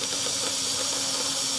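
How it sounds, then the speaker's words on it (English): Steam pressure relief valve blowing off on a PM Research BLR-2 boiler that feeds a Graham TVR1A steam engine, giving a loud, steady, unbroken hiss with a faint droning tone underneath. "steam pressure relief has blown"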